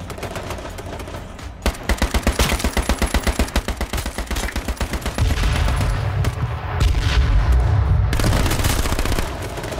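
Gunfire in the video game H1Z1: a rapid, evenly spaced burst of automatic shots followed by denser, heavier rounds of continuous firing, loud and close with no talk over it.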